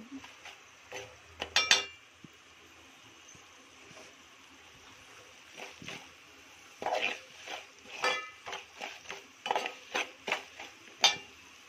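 A spoon stirring raw mango pieces into plenty of ghee in a pan over low heat, scattered clinks and scrapes that grow quicker and more regular in the second half, fairly soft, no talk.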